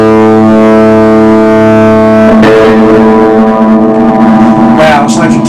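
Reverb from a restored 1968 Peavey Musician guitar amp head, loud sustained distorted guitar tones that ring and wash out into a long echoing tail, with a sharp burst of new notes near the end.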